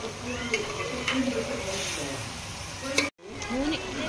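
Chicken liver pieces frying in oil for a tamarind curry are stirred, giving a continuous sizzle with periodic spoon scrapes against the pan, close and moderately loud.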